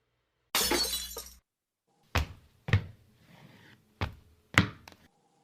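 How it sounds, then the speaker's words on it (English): Glass breaking as an audio drama sound effect, likely a break-in through a window: a long crashing shatter, then four sharp separate impacts with brief tinkling tails, clear and close against silence. "We hear more glass breaking, then the sound of heavy combat boots hitting the floor."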